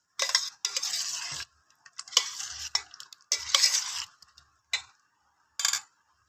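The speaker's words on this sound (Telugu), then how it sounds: "చింతపండు గుజ్జు వేసి ఉసిరికాయని ఒకసారి బాగా కలుపుకున్నాము." Amla pickle being stirred with cooked tamarind pulp, giving close, wet scraping and clinking strokes in several bursts separated by short pauses, with no voices.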